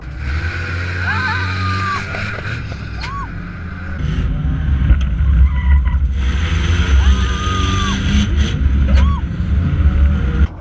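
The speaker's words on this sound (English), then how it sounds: "There we go, we're racing now." Race cars at a night enduro event roar with steady engine noise and tire squeal, loud and close, with engine pitch sweeping in repeated rising and falling bursts.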